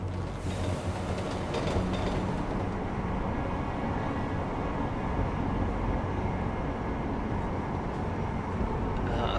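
Subway train ride in Prague in the game Deus Ex: Mankind Divided, a steady loud rumble of carriages on rails with faint clatter throughout, no voices.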